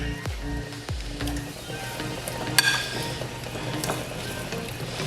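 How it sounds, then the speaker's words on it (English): Chicken wing seasoning with parsley being stirred and mixed in a bowl, soft wet squishing and scraping up close, with a couple of low thumps early on. "We're going to mix everything together."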